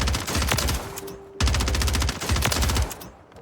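Rapid bursts of submachine-gun fire from a first-person shooter, Warzone 3, firing near and loud in several quick strings with short pauses between them.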